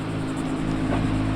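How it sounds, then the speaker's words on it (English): A car engine and exhaust hold a steady, loud drone with a rich low rumble, swelling slightly near the end of a short burst, with no talk over it. "Give it some revs."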